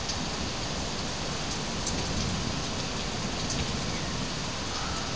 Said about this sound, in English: So a thunderstorm is normal, but so are strong ice rain.